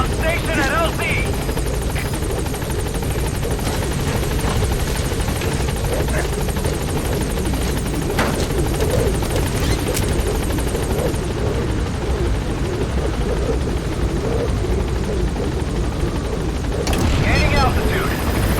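The Pequod helicopter in Metal Gear Solid 5 hovers at a landing zone, its rotor thumping in a loud continuous drone throughout, with voices talking over it.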